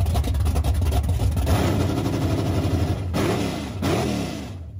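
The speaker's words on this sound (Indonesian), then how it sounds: "Atau suara mesin V kayak gini." A V engine runs with a throaty, uneven rumble, close and loud, with a couple of short blips of the throttle.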